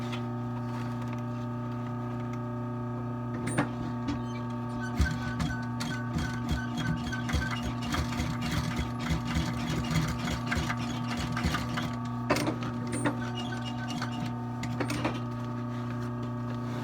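Industrial sewing machine stitching the leather uppers of a pair of Tony Lama cowboy boots during a restoration, a steady mechanical hum with a rapid rattling stitch rhythm running the whole time, close and moderately loud.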